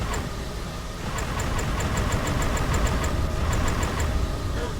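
An overheated boat engine in the fishing game Dredge drones steadily at a mid pitch, with a rapid run of faint, high ticking beeps over the rumble.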